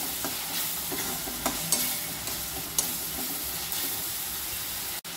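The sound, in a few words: roasting ground masala paste in a pan for prawn curry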